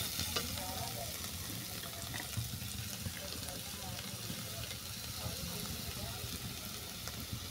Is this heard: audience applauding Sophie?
no